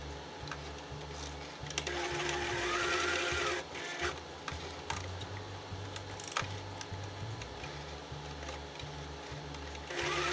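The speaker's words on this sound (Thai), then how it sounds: "เราก็จะนำชิ้นงานไปเย็บค่ะ วิธีการเย็บนะคะ เราก็จะเย็บเป็นคิ้วด้านบนแล้วก็ด้านล่างนะคะ" A sewing machine stitches a fabric piece for a roll-up pen and notebook case, running in a fast mechanical whir with short pauses and restarts, close and steady throughout.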